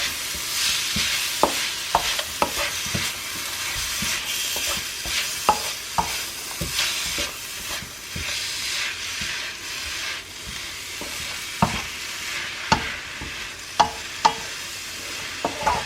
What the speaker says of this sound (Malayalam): ക്യാരറ്റ് ഇട്ട് കൊടുത്ത് നന്നായി ഇളക്കി കൊടുക്കുക.